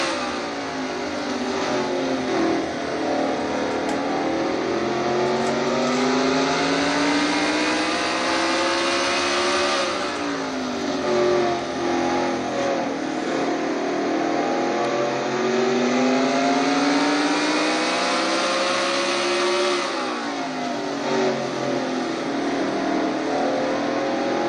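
Onboard a number 17 stock car racing in a Castrol GTX Cup Series 500 at around 96 mph, the engine roars loud and continuous, pitch rising and falling through the laps with the surrounding field droning close behind.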